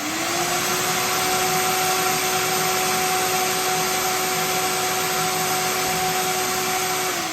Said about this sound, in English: I've got a shop vac right next to me.